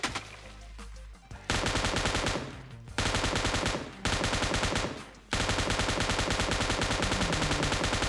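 Rapid automatic gunfire in PUBG Mobile, loud and close, in several long sustained bursts separated by brief pauses.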